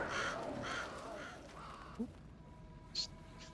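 Crows caw in the horror video game Alan Wake II, two short separate calls standing out over a dim ambient background with faint murmur, one near the middle and one toward the end.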